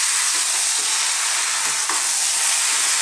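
Chopped canned plum tomatoes hitting a hot pan of spicy Mexican-style shepherd's pie filling, a loud, continuous close sizzle and hiss with faint stirring scrapes throughout.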